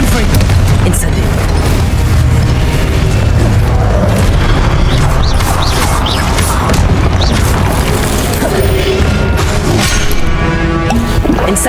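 Spell blasts from Hogwarts Legacy, Incendio fire bursts and Confringo explosions, boom and crash continuously in heavy, loud combat with dense overlapping impacts and whooshes throughout.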